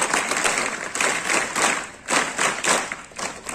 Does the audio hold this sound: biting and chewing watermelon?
no